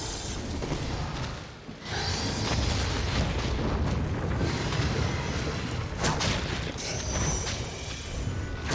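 A fire spell explodes in Dragon's Dogma, a sustained roaring, rumbling blast with crackling bursts that runs loud and continuous for several seconds, with a brief dip before it swells again.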